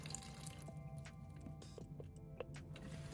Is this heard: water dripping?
yes